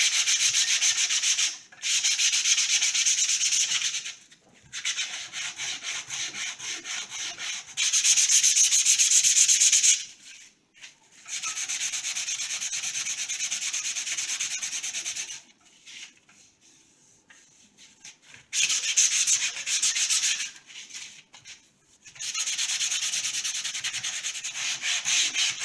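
Wood sanded by hand with 100 grit sandpaper, steady scratchy strokes in long runs broken by short pauses, close and fairly loud with no talking.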